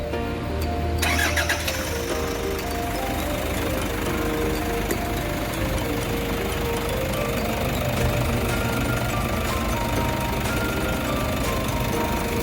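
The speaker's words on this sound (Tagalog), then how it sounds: "So i-start natin guys ang sasakyan." A Toyota Hiace GL Grandia van engine starts at a service shop after an oil change, with a short crank that catches into a loud, steady idle running close up for the rest of the clip.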